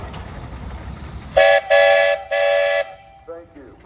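A steam traction engine at a threshing show parade sounds its whistle in three loud, clear blasts, the middle one longest, above crowd murmur and with a voice afterward.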